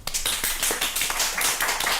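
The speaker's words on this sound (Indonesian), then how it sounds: "Tapi sebelumnya kasih aplaus dulu dong." An audience applauds the speakers at a disaster-management training session, a dense, steady burst of many hands clapping together, loud and close, sustained for the whole two seconds.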